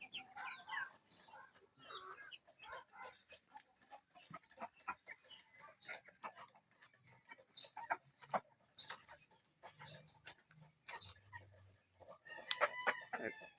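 A rooster crows amid scattered clucking and other farmyard bird calls, fairly distant and faint, with a crow standing out near the end; the birds are Bisaya chickens.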